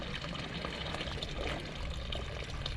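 Water steadily running from a new non-potable fountain in a village church grounds, a continuous close splashing pour with no voices.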